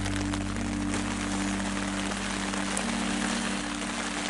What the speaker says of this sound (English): The rain is nice, but it's really coming down. It's pretty loud.